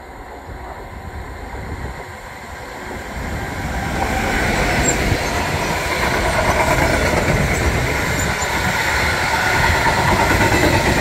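A high-speed train on the Hamburg–Berlin line approaches and passes, a low rumbling roar that swells after a few seconds and holds loud and steady, with a faint high whine above it and no voices.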